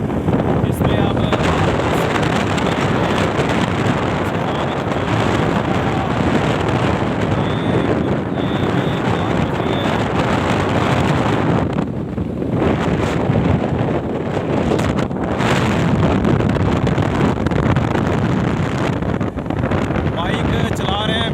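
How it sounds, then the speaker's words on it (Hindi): Motorbike ride through the Thal desert, with steady broadband wind rush buffeting the microphone and a constant engine drone running loud and unbroken throughout, close and continuous, with a voice talking faintly beneath. "बाइक चला रहे हैं मेरे कज़न एडवोकेट ज़ीशान मलिक।"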